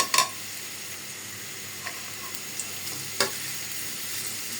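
Vegetable stems fry lightly in a pan on a gas stove, giving a continuous, even sizzle with a few sharp clinks of stirring against the pan.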